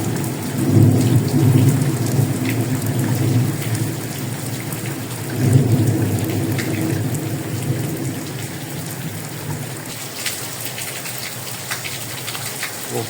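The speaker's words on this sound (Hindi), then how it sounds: "आपको अंदाज़ा है बारिश तेज़ हो रही है" Heavy rain pours steadily in Faisalabad during a thunderstorm over open fields, with low rolling thunder swelling twice early on and the dense hiss continuing throughout, with no talking.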